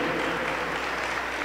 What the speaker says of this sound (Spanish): le damos las palmas para el Señor Jesucristo.